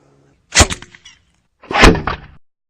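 A gasoline-fueled potato cannon launching a quarter-pound potato: two loud, hollow booms about a second apart, each with a short ringing tail, and silence around them.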